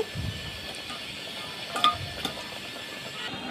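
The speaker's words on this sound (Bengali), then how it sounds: "এই তো এখন নেড়ে চেড়ে দিচ্ছি।" Mutton being stirred in a pressure cooker, soft scraping with a few light metallic clinks of a spoon against the pot, close and fairly quiet, with a faint sizzle underneath.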